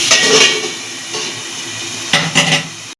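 A metal lid is set onto a pot of mixed rice with prawns, producing a couple of bright metallic clatters and scrapes near the start and again later over a low kitchen hum, then cutting to silence.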